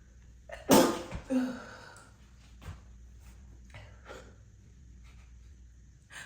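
One sharp, partly muffled sneeze bursts out close by, followed by a few soft sniffs and breaths in a quiet room.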